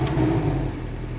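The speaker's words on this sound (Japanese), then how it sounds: "ではエンジンを始動していきます。" A 2017 Porsche 718 Cayman with PDK and Sport Chrono Package, its engine turning over and settling into a steady, loud mid-range rumble close by, with no talking.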